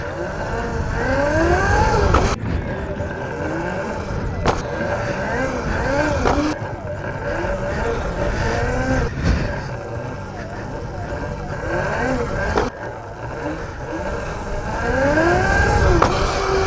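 A ready-to-run ETM RC car doing wheelie practice, its electric motor whining in repeated rising and falling sweeps, with sharp thuds as it slams back down onto its tires several times.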